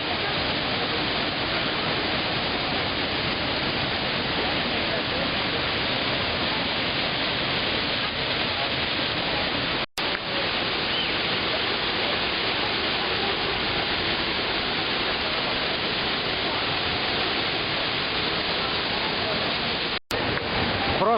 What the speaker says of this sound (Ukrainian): Зараз ми підійшли до самого високого водоспаду